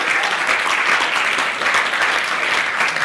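Steady, dense applause from a crowd, clapping evenly throughout with no pauses.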